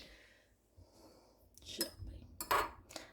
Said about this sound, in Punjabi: ਹੁਣ ਆਪਣਾ ਚਮਚ ਮੈਂ ਕੱਢਾਂ।